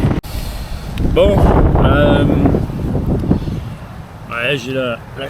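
Strong wind buffets the microphone at a northern Danish port known for its north winds, a loud, rough roar that rises and falls while someone talks over it.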